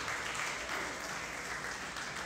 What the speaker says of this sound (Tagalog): Palakpak ulit sa Panginoon.